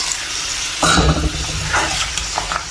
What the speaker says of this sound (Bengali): সবজিগুলো হচ্ছে কষিয়ে নিচ্ছি সাথে হচ্ছে বড়িগুলো দিয়ে দিই